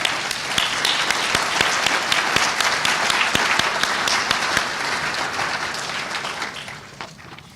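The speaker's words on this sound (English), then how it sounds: "please stand and let's all applaud for them" An awards ceremony audience applauds residency program teachers, a dense, steady wash of many hands clapping that fills the room, with sharper individual claps standing out, then gradually thinning and fading near the end.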